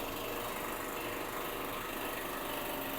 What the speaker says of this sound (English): So you can see how the powder is getting sieved.